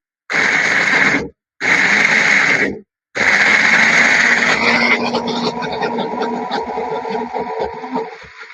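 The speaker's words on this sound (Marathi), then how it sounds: "मिक्सरला लावून येते." A kitchen mixer grinder blends ingredients to a fine grind in two short loud whirring bursts separated by brief pauses. It then runs in one longer continuous spell that eases slightly toward the end.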